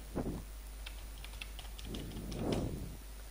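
Keys tapped on a computer keyboard while a mobile number is entered, a quiet run of light clicks with soft low thumps from the desk, close and steady with no voices.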